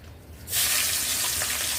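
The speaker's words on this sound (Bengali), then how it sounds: "পেঁয়াজটা দিয়ে দিলাম তেলের মধ্যে" Chopped onion drops into hot oil on a clay stove on a rooftop and bursts into a loud, steady sizzle that carries on unbroken after a short quiet start.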